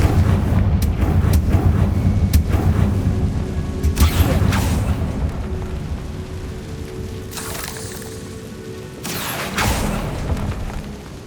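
Confringo explosive spell in the Hogwarts Legacy video game, with several deep booming blasts, a heavy rumble at the start and sharper bursts later, loud and close.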